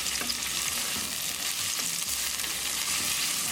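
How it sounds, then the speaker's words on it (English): Onion frying and being stirred in a hot tadka for moong dal, a dense steady sizzle close and loud, no talk. "We're going to cook onion until they are nicely brown"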